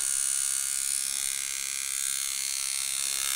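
A Pope Irons T3X tattoo machine fitted with a 15 curved magnum needle runs steadily, a constant high-pitched electric buzz with no pauses, fairly close and loud throughout.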